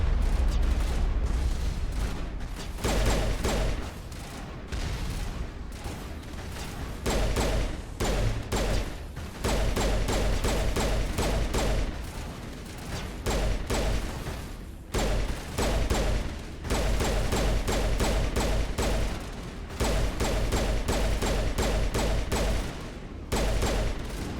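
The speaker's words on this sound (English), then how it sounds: "lots of shooting to do." Sustained gunfire from a Mass Effect firefight at Liara's dig site, with dense bursts of shots and heavy booming impacts running almost continuously and loud throughout, broken by brief lulls.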